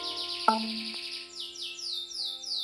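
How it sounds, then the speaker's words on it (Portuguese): Bright, rapid bird chirps from the video game Cube Escape: Harvey's Box repeat in short sweeping bursts over sustained electronic musical tones, like a synthesized game soundtrack. "o passarinho tá cantando pra caramba"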